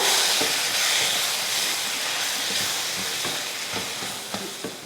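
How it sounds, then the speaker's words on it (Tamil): Chili powder and masala sizzling as they sauté in hot oil in a pan for a Tamil bitter gourd kuzhambu, a steady, loud, close hiss lasting throughout with no talk. "மசால் போட்டு எண்ணெயில் வதக்கி விட்ருவோம்."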